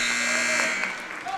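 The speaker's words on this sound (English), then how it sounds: "Over to Cam Chaffins for 3 at the buzzer, no good." A buzzer sounds at the end of the first quarter of a boys high school basketball game between Mason County and Greenup County, a steady electronic tone over the noisy crowd in the gym.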